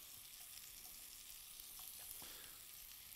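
Two onion rings frying in a pan while chicken is grilled for Serbian-style lasagna, giving a steady, close sizzle with faint crackles and a few light stirring clicks throughout, no talking.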